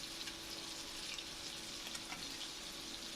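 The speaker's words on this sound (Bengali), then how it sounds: "এভাবে আমি সম্পূর্ণ মাছগুলো উল্টিয়ে পাল্টিয়ে আমি ভেজে নেব" Fish frying in oil in a pan, a steady faint hiss and sizzle running evenly throughout with tiny crackles, no voices.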